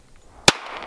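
A single sharp shot from a 1911 pistol aimed at an oxygen tank in a car cracks out once in the middle of quiet, followed by a brief low tail.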